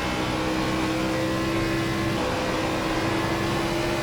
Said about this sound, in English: I cannot keep this car straight going down at full speed on the back stretch